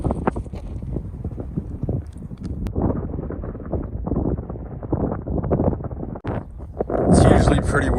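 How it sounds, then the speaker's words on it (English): Wind gusts across the open Arizona badlands, buffeting the microphone with a constant low rumble. Irregular crunching steps are heard underneath, and the wind surges louder near the end. "it's a little windy today"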